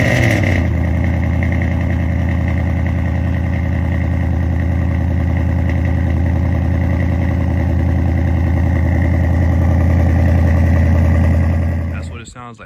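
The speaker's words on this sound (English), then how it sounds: "let's go ahead and get the cold start" Ford Mustang with long tube headers on a cold start, a loud, deep and steady idle rumble with strong low harmonics held for about twelve seconds, then cutting off with a brief rattle at the end.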